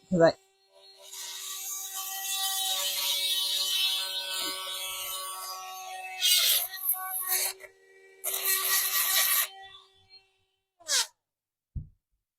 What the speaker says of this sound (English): the fact that I'm scraping all around like that